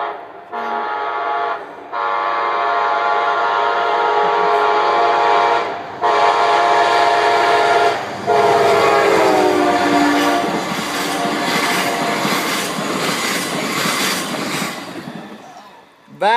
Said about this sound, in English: Come on, we finally got a train going.